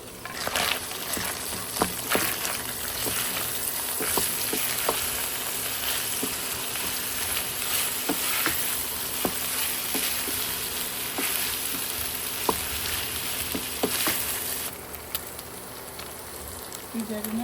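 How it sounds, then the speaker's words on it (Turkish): Onion and garlic sizzle steadily in a hot pan with tomato paste and pepper paste, a dense continuous frying hiss with small crackles and stirring clicks throughout, and a brief word spoken once early on. "Güzel kavuruyorum şimdi soğanla."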